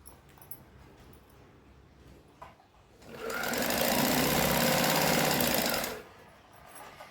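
A sewing machine top-stitches a fabric strip for attaching a zip to a kurti, starting after a quiet pause with a fast, steady mechanical rattle for about three seconds before stopping abruptly.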